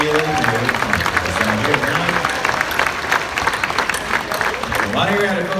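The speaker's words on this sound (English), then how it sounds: "give yourselves a big hand" Audience applause in a large dinner-show arena at Dolly Parton's Stampede, continuous crowd clapping mixed with music and voices throughout.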